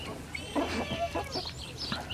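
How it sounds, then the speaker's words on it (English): Chickens cluck softly close by, a few brief clucks and murmurs over quiet background noise. "chickens will go out and eat grass and bugs all day"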